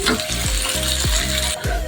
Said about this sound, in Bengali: হালকা করে একটু ভেজে দিচ্ছি মাছের মাথাটি